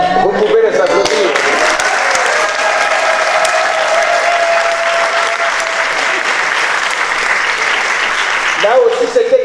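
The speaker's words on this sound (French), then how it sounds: "Vous pouvez les applaudir." Congregation applauding at a closing New Year Mass for a Taizé gathering, loud dense clapping sustained from start to finish, with a faint tone drifting underneath.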